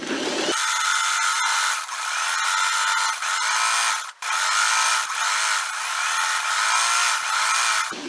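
A sewing machine back stitches across a shirt seam, running as a loud, continuous motor whir that pauses briefly twice before carrying on.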